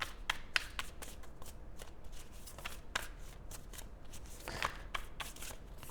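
Tarot cards shuffled and drawn by hand, with soft, papery riffles and sharp card snaps that arrive in irregular bursts, close and fairly quiet.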